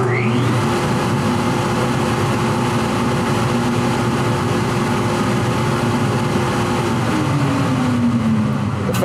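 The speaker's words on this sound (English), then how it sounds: "The fan icon, again, powers on the fan for our flow restriction" A Filtertherm inspection table's flow-restriction fan runs in a steady, loud broadband whoosh, with a low hum whose pitch shifts near the start and again toward the end, and no one speaking.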